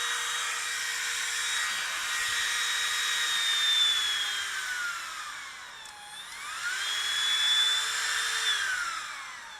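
A Kreg router motor spins at full speed, about 30,000 RPM, with a high, steady whine that dips and rises again as the speed changes. The sound is close and loud.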